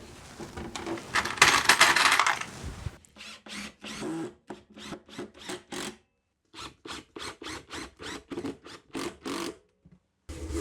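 Screws driven into a glued wooden cat house with a roof set at a 25-degree angle: a loud, sustained whirring burst gives way to a series of short, sharp drill pulses separated by brief pauses, close to the microphone.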